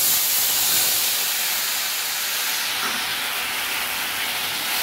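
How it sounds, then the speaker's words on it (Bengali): Onion and garlic paste hitting hot oil, a loud, dense, close hissing sizzle that continues evenly throughout, with no voices. "আমি পেঁয়াজ আর রসুনের যে পেস্টটা করে রেখেছিলাম সেটা আমি তেলের মধ্যে দিয়ে দেব"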